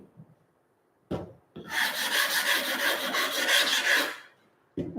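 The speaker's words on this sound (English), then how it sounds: "I like the NSK flatteners for actually doing the corners of the 200 grit, as well as the front." A 200-grit diamond sharpening stone is flattened with an NSK flattener, producing one continuous gritty rasping scrape of about three seconds, close and fairly loud, set between short knocks.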